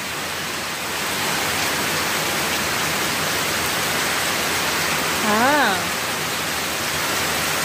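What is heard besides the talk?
rain falling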